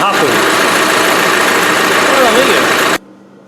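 A vehicle engine idles loud and close while warming up, a steady throbbing rumble with a mechanical knock that cuts off abruptly near the end.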